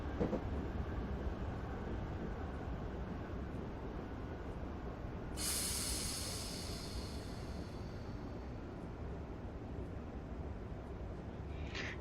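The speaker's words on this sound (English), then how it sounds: "It's going to add the brakes again." Steady rumbling of a Class 321 electric train under braking, a continuous heavy drone of wheels and motors with a brief hissing rush partway through.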